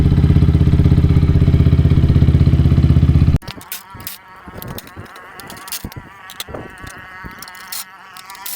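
A neglected Yamaha YZF-R125 motorcycle idles while warming up, a loud, steady, buzzy single-cylinder thrum for about three seconds before it cuts off abruptly, followed by scattered clicks and knocks.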